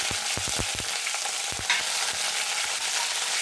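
Curry leaves and chilli frying in oil for a jackfruit erissery, stirred in the pan: a continuous bright sizzle with a cluster of low knocks from the spoon early on and a few more later, close and steady.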